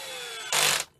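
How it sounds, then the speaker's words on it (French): A simple electric drill drives screws on a Rotax engine, a brief close whirring burst of about a third of a second over a steady tonal hum, with no talking. "c'est une perceuse toute simple, hein, c'est pas clé à choc"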